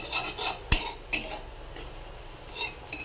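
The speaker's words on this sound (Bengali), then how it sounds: "এটা দিয়ে ভালো করে একটু নাড়াচাড়া করব।" Garlic being stirred in a frying pan gives a few sharp metal clinks and scrapes of the spoon against the pan, spaced irregularly over a low, faint background with no talking.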